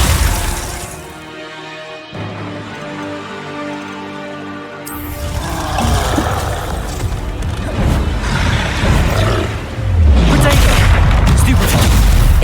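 Glacius ice spell cast in the Hogwarts Legacy video game, a bright shattering, crackling burst over dense game music and effects, followed by further rumbling impacts and crashes that continue through the clip.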